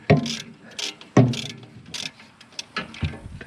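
A ratchet wrench works loose the last exhaust manifold nut on a 1975 Moskvich-412 engine, giving several close clicking ratchet strokes with metallic clunks in an uneven rhythm.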